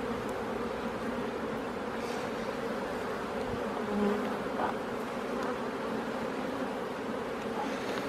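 Honeybees hum in a dense, steady drone close around an open hive during a weekly beehive inspection, with no voices.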